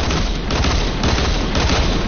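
Dual pistols firing in a video game, a dense, steady barrage of rapid gunshots with booming low end, continuous and loud throughout with no pauses.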